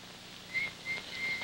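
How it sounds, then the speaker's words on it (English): Short bursts of high whistling, three brief tones in a row with small gaps, fairly quiet and close. "Stupid whistling."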